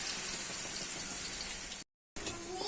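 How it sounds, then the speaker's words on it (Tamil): Water for maqlooba, seasoned with salt, green chillies, cardamom, cloves and cinnamon, boiling hard in a pot, a steady close hissing roil that cuts out briefly before resuming. "தண்ணி நல்லா கொதிச்சிருச்சு."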